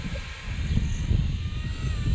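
A Blade 235CP RC helicopter flying nearby, its steady whining rotor and motor drone running continuously at moderate loudness with a low fluttering rumble beneath.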